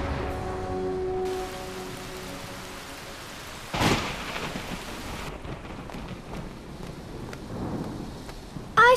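Cartoon storm with steady heavy rain and a sharp thunder crack midway, then continued downpour and rumbling, loud and close with no voices.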